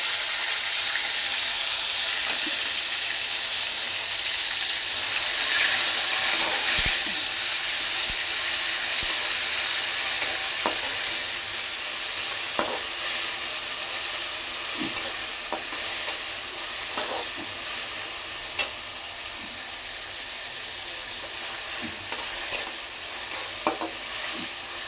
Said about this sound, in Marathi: आता छान तेलात शिजवून घ्यायचे आहे टोमॅटो